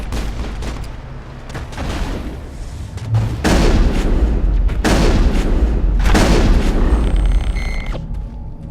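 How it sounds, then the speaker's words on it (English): Shotgun blasts boom in the video game Mass Effect, several heavy shots spaced a second or so apart over a constant rumbling game soundscape, loud and close, with no talking. "Shotgun time."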